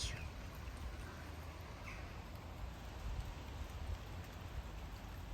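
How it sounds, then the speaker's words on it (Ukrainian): Soft, steady morning rainfall patters evenly throughout, faint and continuous with no voices. "У нас ранок дощовий."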